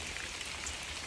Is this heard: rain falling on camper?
yes